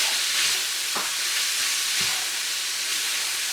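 Garlic sautés in a hot pan for a gluten-free, dairy-free stuffed bell pepper casserole, giving a loud, steady, close sizzle throughout, broken by a couple of soft knocks as it is stirred.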